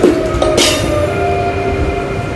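A train pulls into a station on a Geneva rail journey with a loud, steady rumble and rail noise, a brief hiss of brakes or air partway through, close by.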